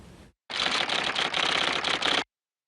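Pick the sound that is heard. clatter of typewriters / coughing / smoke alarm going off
clatter of typewriters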